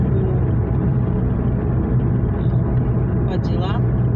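Car on the road to Ufa on a Sunday morning, giving a steady, loud broadband cabin rumble and road drone throughout, with no clear breaks and a few faint higher chirps near the end.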